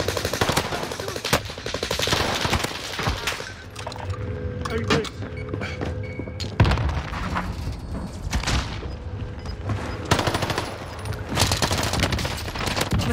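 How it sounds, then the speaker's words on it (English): Rapid automatic gunfire from Call of Duty: Vanguard Warzone fills the scene in dense bursts, with booming impacts and mechanical clatter, loud and continuous as someone talks over the combat. "I'm taking fire!"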